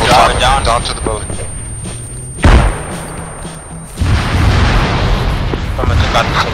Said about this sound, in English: I think it was an explosion.